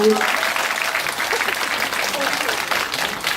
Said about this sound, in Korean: 박수 부탁드릴게요. 박수!